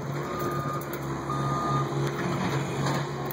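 A truck's reversing alarm beeps repeatedly at a steady rhythm on a concrete construction job in Colorado in summertime, loud and close over a continuous engine drone, no talk.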